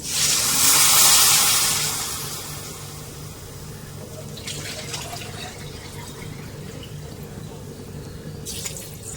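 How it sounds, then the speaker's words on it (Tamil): Water pours into a pan of vermicelli for semiya kichadi in a loud splashing rush for a couple of seconds, then a steady sizzle and bubbling continues with a few faint splashes. "இப்போ தண்ணி ஊற்றிக்கலாம்."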